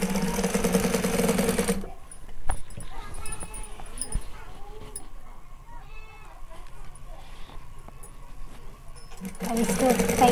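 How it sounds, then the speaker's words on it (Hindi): A large, heavy sewing machine stitches a blouse in a home setting, its steady mechanical whirring running for several seconds between louder bursts of background noise at the start and end. "सिलाई तो बहुत अच्छा होता रहता है, इसलिए ये झुकी मशीन है और बड़ी मशीन है"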